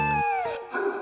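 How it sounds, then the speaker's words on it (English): A single drawn-out howl, close and loud, with a wavering pitch that slides downward before a brief rougher tail. "did you know that they howl late at night?"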